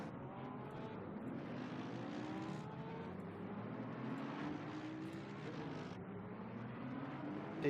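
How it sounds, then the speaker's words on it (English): A field of GT race cars in Assetto Corsa Competizione pulling away at the start of a race at the Nürburgring, a continuous layered engine drone with rising and overlapping tones, fairly distant and even in level. "The drivers pull away for the start of race number 2."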